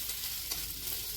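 Eggplant slices frying in a pan, a soft continuous sizzle with faint crackles, heard quietly from nearby without talk.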